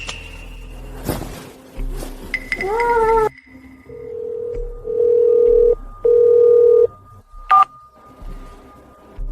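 A phone call fails to connect: a burst of DTMF keypad tones comes first, then repeated steady ringback or dial-tone beeps with short gaps, loud and close, with brief voice sounds early on.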